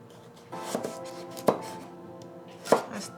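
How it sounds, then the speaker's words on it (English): A knife chops a carrot into thin julienne strips for pancit bihon, giving a few crisp, close board knocks at uneven intervals in a quiet kitchen. "We're going to cut the carrot in julienne style pieces, so which are really thin strips."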